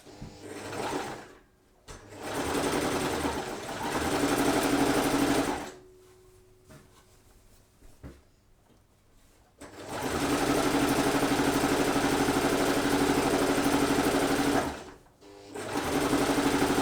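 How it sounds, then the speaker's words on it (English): A sewing machine runs long stitches in a straight line across gingham fabric, in loud steady whirring bursts with brief pauses between, close and alone. "we're going to sew a straight line all the way across"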